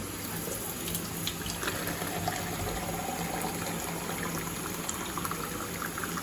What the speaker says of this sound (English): So I've got some water into this bucket right here.